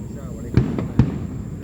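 Fourth of July fireworks going off nearby, two dull booming pops about half a second apart, with a faint voice in the background.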